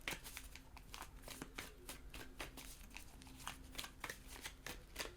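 Tarot cards being shuffled by hand, a steady run of crisp riffling slaps and soft papery flutters, close and continuous, with a faint low hum underneath.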